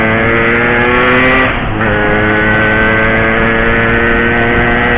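A 2-stroke 135cc motorcycle with a loose exhaust bolt revs hard and close, a loud sustained raspy drone that briefly dips in pitch midway before climbing again.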